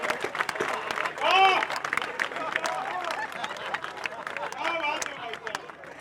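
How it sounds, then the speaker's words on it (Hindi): An audience at a poetry gathering (kavi sammelan) in Panipat claps, bursts of crowd applause mixed with a speaker's amplified voice talking throughout. "तालियां जरा जोरदार बजाओ"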